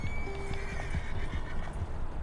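A horse in Red Dead Redemption 2 whinnies in a long, clear neigh over a steady run of hoofbeats, up close and loud throughout, with no talking.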